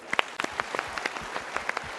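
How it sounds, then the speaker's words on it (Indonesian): A short burst of applause from a small group, scattered claps at a lively, uneven pace. "tepuk tangan dulu"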